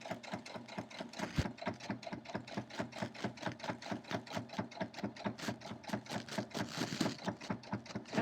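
A sewing machine stitches a border onto a fleece cat block, its needle hammering in a steady fast rhythm throughout, close but fairly quiet.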